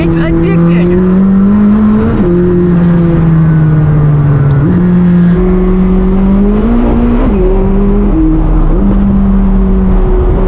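A 2019 McLaren 600LT accelerates hard, its loud engine note climbing and then dropping sharply at each of several rapid gear changes, close and continuous from start to finish.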